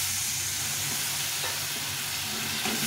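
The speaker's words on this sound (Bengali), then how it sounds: "ভালো করে কষিয়ে নেব" A masala for a mustard fish curry sautés in a pan with a splash of water, a dense, steady hiss and crackle close by, with faint stirring scrapes and no speech.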